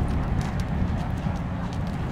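A bay horse's hooves clip-clop at a fair in a steady, even rhythm, close and fairly loud over a low background rumble.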